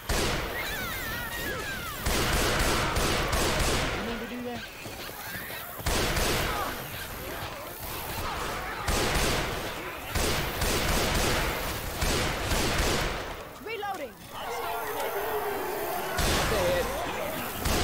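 Gunfire in a shooter video game: loud, dense bursts of shots crack repeatedly across the whole stretch, broken by brief lulls, with voices talking over the action.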